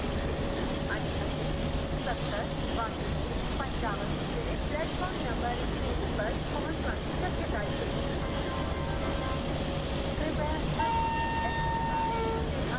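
An electric locomotive in the train simulator Open Rails pulling away, a steady rumble of wheels and motors with a long horn tone, busy background noise and a brief higher tone near the end.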